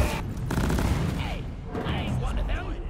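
Bursts of rapid gunfire ring out in the video game Deep Rock Galactic, loud dense volleys with short pauses, mixed with game effects.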